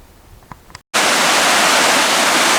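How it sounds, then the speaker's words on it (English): Water on the River Nid rushes over a weir a short way upstream of Knaresborough, in the Nid Gorge. After a brief quiet start the roar sets in abruptly, loud, broad and steady, and continues to the end. "A weir on the River Nid, about 2 miles upstream of Knaresborough"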